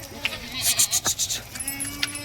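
Goats, including pregnant does offered for sale, bleat in a short burst of several wavering calls close by, followed by quieter bleats and faint background voices.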